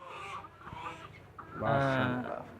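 Chickens cluck at a poultry farm with large birds, some over five kilograms. A few short calls come first, then a louder run of clucking near the close, with faint voices in the background.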